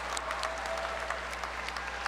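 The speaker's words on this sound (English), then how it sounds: "Let's give a round of applause to the Master of International Public Policy and Management" Graduates receive a round of applause at a university commencement ceremony, a steady, dense clapping from a large crowd that continues the whole time, with scattered louder claps standing out.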